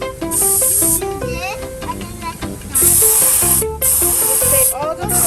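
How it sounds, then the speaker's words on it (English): At a car wash on a hot day, a spray gun blasts water in loud hissing bursts that start and stop several times, over a busy backdrop of voices and music-like tones. "show them how you do the spray gun"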